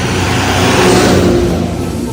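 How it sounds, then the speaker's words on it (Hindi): A tractor speeds along a road, its engine giving a loud, steady, close roar with a slight swell in the middle and no voices over it. "देखो ट्रैक्टर कितना तेज जा रहा है"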